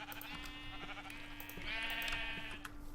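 Sheep bleat in a video game, a drawn-out wavering bleat followed by a louder second call over a steady low hum and faint clicks.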